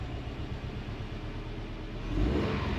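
A Subaru STI engine revs while the car sits stationary and unloaded, a steady mid-pitched engine drone that climbs into a louder, fuller rev near the end, with no talking.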